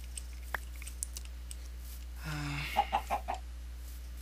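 Chickens in the video game TerraFirmaCraft give a brief low cluck followed by a few short clucks, faint against a steady background hum.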